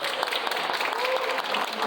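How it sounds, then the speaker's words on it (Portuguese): Audience applause for a comics journalism panel at a convention, a steady wash of clapping from a crowd with faint chatter underneath, continuous and moderately loud. "Palmas para elas, por favor,"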